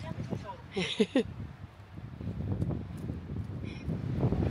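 Strong wind gusts buffet the microphone at the Grand Canyon rim near Mather Point, a continuous low rumbling roar that swells toward the end, with people talking over it.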